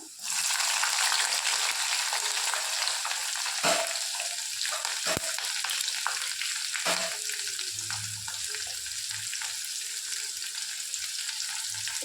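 Mustard seeds, fenugreek, garlic and onion fry in oil for a tamarind kulambu, making a close, continuous sizzle with a few sharp clicks and thumps of stirring.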